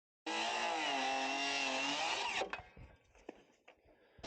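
A power saw whines steadily while cutting off a wooden sub fascia board on a garage build, its motor pitch sagging slightly under load before spinning down into scattered clatter and faint debris noise.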